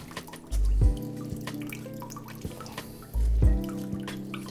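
Grated vegetables for koftas are squeezed by hand, sending water out in two heavy splashing gushes followed by scattered drips and trickles, close and clear with no talking.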